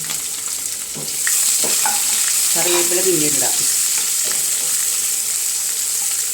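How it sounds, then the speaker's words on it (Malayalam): Steady sizzling of mustard seeds, onions, shallots, ginger and green chillies frying in hot oil with occasional stirring clatter, loud and close, while a voice speaks briefly. "കടുക് പൊട്ടിച്ച് വന്നിട്ട് നമുക്ക് സവോള, ചുമന്നുള്ളി, ഇഞ്ചി, പച്ചമുളക്, ഇത്ര സാധനങ്ങൾ ഇട്ട് കൊടുക്കാം"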